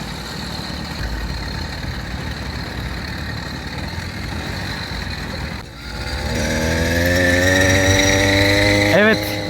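A motorized bicycle engine rides along a main road: steady wind rumble at first, then the close engine revs up with a rising, buzzing pitch that grows loud toward the end.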